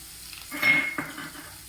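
A spoon scrapes and clinks against a pan while onion shaak cooks, with a short sizzle and a couple of metallic knocks close by, with no talking.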